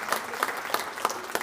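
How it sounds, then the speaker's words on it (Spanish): Church congregation clapping, a short burst of applause with a few distinct, sharp claps standing out above a softer, scattered patter. "Dar un aplauso al Rey de Gloria por su vida."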